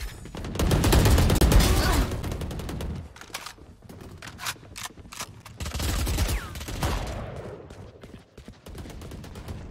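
Rapid bursts of shotgun and machine-gun fire in the Valorant video game, loud and dense for the first few seconds, then scattered shots and a second heavy volley, with no speech.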